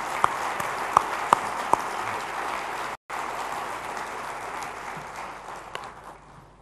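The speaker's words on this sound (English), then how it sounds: "let's hear a thunderous round of applause" An audience at a conference applauds an Air Chief Marshal's entrance, a sustained roomful of clapping with a few sharp louder claps early on and a momentary dropout midway.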